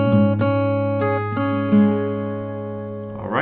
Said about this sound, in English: So that part sounds like this.